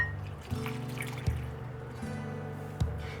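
Room-temperature milk poured into a bread dough mixture of egg and melted butter, a soft steady trickling pour, fairly faint and close, with a few light knocks and no talking.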